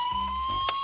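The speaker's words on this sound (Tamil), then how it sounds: "ஆம் நண்பர்களே, அது ஒரு ஆம்புலன்ஸ் தான்." A brief ambulance siren holds a steady, piercing high tone over a low rumbling hum.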